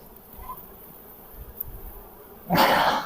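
Buckfast honey bees buzz faintly at an open hive during an inspection, a low hum that swells into a louder, closer buzz near the end.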